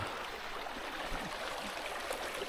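The Archer River on Cape York runs with a continuous broadband rush of flowing water, steady and fairly close, with no voices over it.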